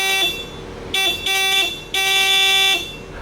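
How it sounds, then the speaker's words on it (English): A tinny, thin car horn on a Volkswagen XL1 sounds in several short blasts of differing lengths, loud and close, with no voices. "Take a listen to the XL1's horn."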